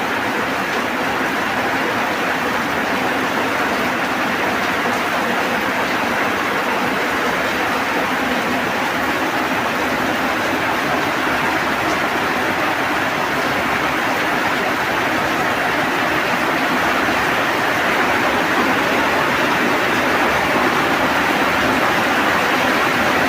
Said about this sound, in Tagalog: Lakas ng ulan dito mga tol.